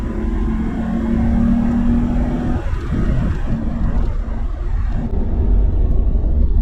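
Suzuki Jimny JA22, an old boxy small 4x4, driving: a steady loud low engine and road rumble fills the whole stretch, with a droning tone that fades early on and swells slightly again near the end.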